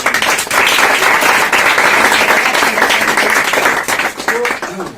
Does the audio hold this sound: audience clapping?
yes